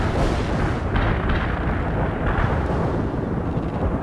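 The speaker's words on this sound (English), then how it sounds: "We can start a heavy barrage. Firing for effect." Continuous heavy artillery barrage in a modern war strategy video game, a dense, loud rumble of overlapping explosions and booms with no pauses over the whole stretch.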